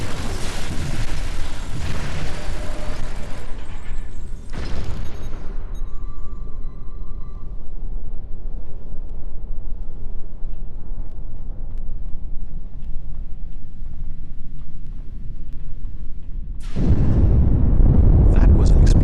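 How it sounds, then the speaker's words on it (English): Explosion causing a breach in the video game Star Trek Online, a loud roaring blast at the start that fades into a long rumbling decay, followed near the end by another sudden loud burst. "That was an explosion of sufficient magnitude to cause a breach."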